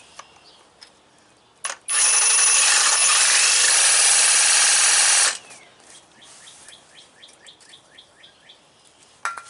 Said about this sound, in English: Never go full speed with a sawzall cutting metal, because you'll burn up the blade real quick.